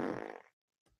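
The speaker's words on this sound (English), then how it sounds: "you gotta have the fart noise" A short, loud, buzzy fart sound effect lasts about half a second, then a tiny faint trailing puff, with no talk over it.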